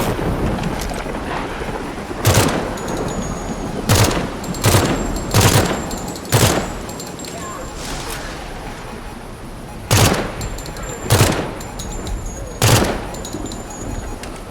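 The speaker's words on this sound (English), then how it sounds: "The incendiary rounds are quite useful because it's easy to figure out where they are." Incendiary rounds fired in the video game Project Silverfish: loud, sharp gunshot bursts that come singly and in quick clusters, separated by brief quieter gaps over a steady background rumble.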